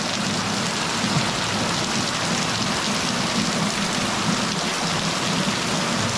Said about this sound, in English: This is one of the hardest I've ever seen it rain here, ever.